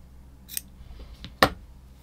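Scissors cut crochet yarn up close, giving two short, crisp snips, a faint one followed by a sharper, louder one, in an otherwise quiet room.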